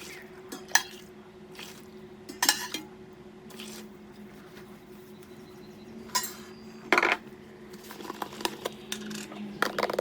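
Repashy Bug Burger powder is stirred into boiling water in a container, with intermittent scraping and clinking of a utensil against the sides over a low steady hum.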